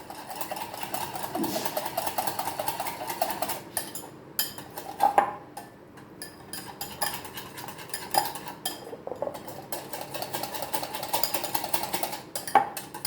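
Fish finger batter being mixed with water in a bowl, steady clinking and scraping of a utensil against the bowl with a quick rhythmic beat, close and fairly quiet, no talking.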